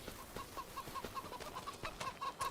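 Chickens clucking in Farming Simulator 25, a quick run of soft repeated clucks and short coos at an even pace, faint and somewhat distant, with no voices.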